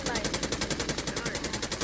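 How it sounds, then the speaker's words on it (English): Rapid automatic gunfire from a first-person shooter video game, a steady burst of repeated shots rattling evenly through the whole stretch, loud and close with faint voice chatter underneath. "Phil, you got killed by a headshot."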